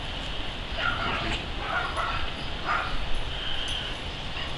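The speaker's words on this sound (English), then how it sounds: "all the other dogs bark and she runs towards it." Several dogs bark near a 10-week-old wolfdog puppy, with a few short, sharp yips and barks in uneven bursts standing out from a steady background hiss.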